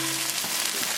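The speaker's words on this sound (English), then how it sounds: "They're kind of sizzling already." French fries sizzling inside a Cosori air fryer, a steady close crackling hiss with faint popping throughout, alone.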